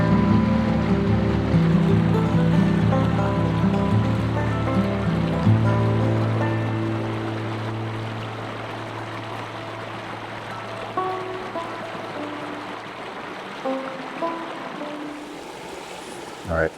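Creek water flows steadily at an outdoor campfire cooking spot, a continuous soft rushing wash that runs through the whole stretch beneath sustained tonal background sounds.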